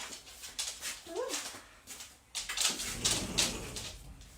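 A dog left in a room gives a brief, rising whimper as it is let out, followed by shuffling and movement nearby.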